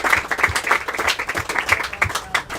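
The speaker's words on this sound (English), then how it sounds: "Let's clap it up for the parents in the booster club" An audience at a boys soccer team banquet applauds the parents and booster club, a dense, close burst of clapping lasting a few seconds.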